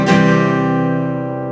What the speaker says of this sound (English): I'm going to go through a strum pattern for you to kind of help you get started here in the chorus